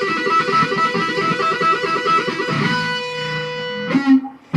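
An electric guitar plays a fast three-note tapping and pull-off pattern in a rapid, even rhythm, closing on a sustained ringing note and a brief final pluck.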